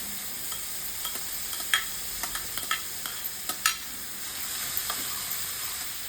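Peas, capsicum and grated carrot fry in a pan for vegetable poha, a steady close sizzle broken by sharp scrapes as a spoon stirs the mix at irregular intervals.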